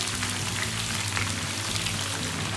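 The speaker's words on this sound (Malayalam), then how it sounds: "ആ സവോള ഈ ഓയിലിൽ തന്നെ ഫ്രൈ ചെയ്ത് എടുക്കുകയാണ്." Thinly sliced onions fry in the oil left over from deep-frying beef, giving a steady, dense sizzle that holds without a break, close and fairly loud.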